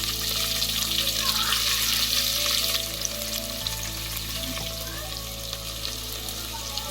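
Chopped onions frying in hot oil with cinnamon and cloves while cooking bahariya rice, a loud steady sizzle throughout, with a brief stirring scrape partway, close up and without talk.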